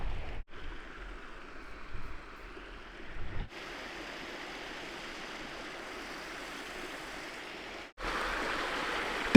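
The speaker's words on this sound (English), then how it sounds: "The water's coming out and this is feeding the valley below." Water flowing steadily out of an old overgrown mine adit in remote Idaho, piped down to feed the valley below; a continuous broadband rush, moderately near, with brief breaks and no talk.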